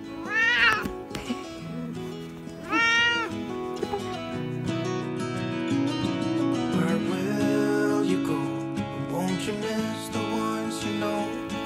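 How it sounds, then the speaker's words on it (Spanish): A female kitten at a house where travellers stay for a few weeks gives two distinct rising meows early on, heard over steady background music throughout. "encontramos un lugar para quedarnos unas semanas y cuidar a una gatita hermosa"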